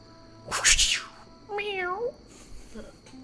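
A cat gives two meows, the first a loud, rough yowl and the second a higher, rising mew, followed by a faint short chirp, all close by in a quiet room.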